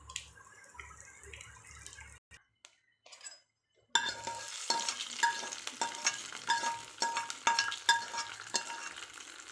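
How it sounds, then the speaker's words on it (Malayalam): Mustard seeds, fenugreek and dried chillies hit hot oil after a short quiet gap. A sudden close sizzle follows, with crackling pops and some stirring clatter. "കടുകും ഉലുവയും ചേർക്കുന്നുണ്ട്, ഒപ്പം വറ്റൽമുളകും."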